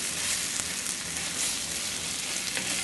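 Chopped bottle gourd, or opo squash, sizzles steadily in a hot pan while being stirred during sautéing, a continuous close frying hiss with no talking.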